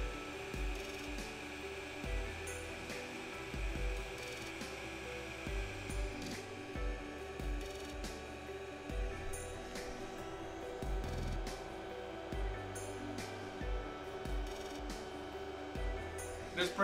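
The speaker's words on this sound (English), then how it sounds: "You won't hear anything but the fan noise." A Sovol SV02 dual-extruder 3D printer runs steadily with a constant cooling-fan whir, overlaid by rhythmic low stepper-motor hums and faint mechanical clicks as the print head moves, with no talking.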